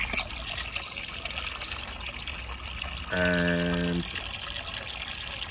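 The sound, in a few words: water filling a container for shellfish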